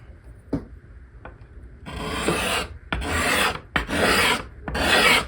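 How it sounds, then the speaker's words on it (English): A freshly burnished card scraper takes shavings from a wood surface, making four loud, rasping strokes in steady rhythm, each about half a second to a second long, close by, after a few faint taps. "It's taking shavings, and I am getting a better surface"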